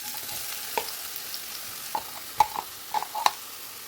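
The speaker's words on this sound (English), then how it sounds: "Add in finely chopped onion." Finely chopped onion fries in two tablespoons of hot vegetable oil for refried beans, a soft steady sizzle broken by a few sharp pops and light stirring clicks, with no voices.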